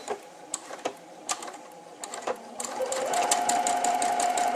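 A Merrylock 355 computerized quilting sewing machine runs a steady, fast stitching buzz after a few separate clicks and taps, the needle rhythm continuous and close by with no talking.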